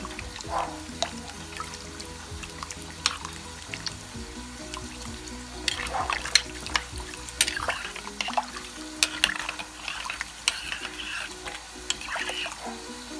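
A spoon stirs beef flavoring into a pot of water for a pot roast, giving scattered scrapes, taps and soft liquid sloshes at close range with no talk.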